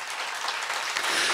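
Audience applause at the close of a live variety show, a steady wash of many hands clapping that swells slightly toward the end, with no clear voices on top.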